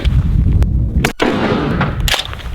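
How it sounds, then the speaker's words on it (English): Gunshots fired at a person wearing budget body armor during a test, loud sharp cracks standing out against a dense, rumbling outdoor background, with one especially strong blast partway through. "So we're gonna take some shots at Bob while he's wearing that body armor"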